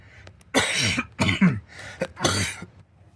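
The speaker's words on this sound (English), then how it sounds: "Sorry for this stupid cough I've got" A few harsh coughs from a person with a sinus illness in quick succession, close and loud, mixed with throat clearing, with no talking.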